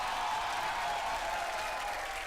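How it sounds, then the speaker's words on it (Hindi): A studio audience at a family comedy game show applauds for a woman contestant, a steady, even wash of distant clapping that holds at low volume throughout without voices on top. "जोरदार तालियां मैडम के लिए"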